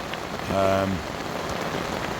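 Steady rain falls on a fishing trip for sturgeon, a dense, even hiss of drops that runs through the whole clip, with a brief tonal hum rising over it near the start.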